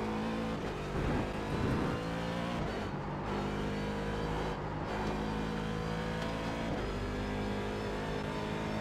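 Continuous loud engine drone of a C7DP race car driven at Spa at night in the iRacing video game, with steady high-revving tone, gear shifts and brief dips in pitch throughout.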